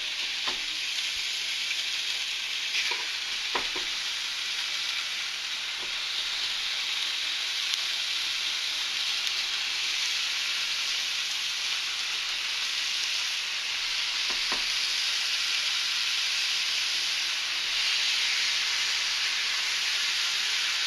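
Steak pieces crowded onto a grill sizzle and fry in a steady, loud hiss that runs unbroken throughout, with a few faint clicks and knocks underneath.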